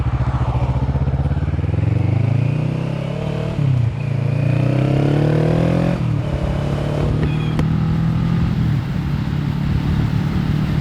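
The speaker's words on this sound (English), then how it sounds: "There's a lot of wind blowing into my helmet, and I know what that does to the sound" A Kawasaki Vulcan S motorcycle engine drones loudly and steadily while riding, its pitch rising and falling through gear changes, with heavy wind buffeting rushing into the helmet throughout.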